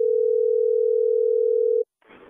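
Telephone dial tone before a call is placed: a steady, loud single-pitch hum holds for nearly two seconds, cuts off abruptly, then a brief muffled rustle follows.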